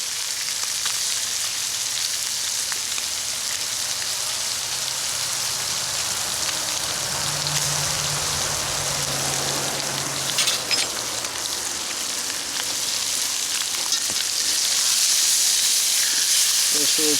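Fresh perch and rock bass hiss and sizzle on a grill over an Adirondack campfire, a steady close broadband frying crackle that holds throughout at even loudness, with brief faint clinks and no talking.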